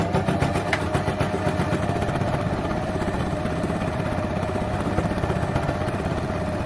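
A sewing machine running a steady straight stitch along the edge of a cotton shirt with tape, a continuous close mechanical whir with fine rapid ticking throughout, no talk.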